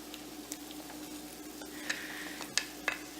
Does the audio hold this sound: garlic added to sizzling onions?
yes